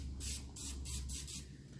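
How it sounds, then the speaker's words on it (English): Lubricating oil sprayed onto a toothbrush while cleaning a Glock 44 pistol, five short hissing bursts from an aerosol can in quick succession, close and fairly loud. "Spray some of the lubricating oil on it."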